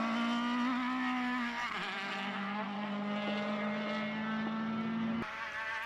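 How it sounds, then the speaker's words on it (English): Formula BOSS race cars lap a circuit in Ireland with a loud, high-revving engine whine that holds steady, dips briefly and shifts pitch, then cuts off near the end. "A big flame from Michael Roche as he enters the chicane."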